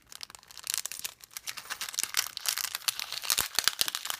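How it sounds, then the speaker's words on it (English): A plastic package holding rubber band C-clips is handled and opened up close, with a steady run of crinkling, crackling plastic rustles that build and continue throughout, no talking. "I'm going to get my C-clip out of its package."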